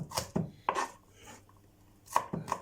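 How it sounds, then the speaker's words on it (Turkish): Onions being chopped on a board with a knife, a handful of uneven close knife strikes with soft pauses between them and no talking. "küçük, küçük doğradım"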